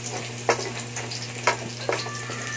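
Garlic sizzles in a pan for a chop suey, a steady frying hiss under a constant low hum, broken by a few sharp scraping stirs.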